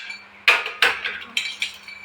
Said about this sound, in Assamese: এখনি মই কুকাৰৰ গেছত তুলি দিওঁ ৰ'ব।